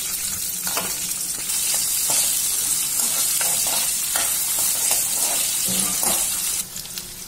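Garlic, curry leaves, shallots and chilies fry in a pan with a steady, loud sizzle throughout, broken by repeated stirring scrapes of a spoon against the metal, with no one speaking.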